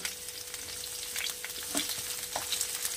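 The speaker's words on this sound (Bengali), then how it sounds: "গ্যাসের ফ্লেম একদম কমিয়ে দিয়ে এটাকে একটু হতে দেবো, একটু সাঁতলে নেব।" Bottle gourd sautés in a pan over a low gas flame with a steady soft sizzle and a few stirring scrapes.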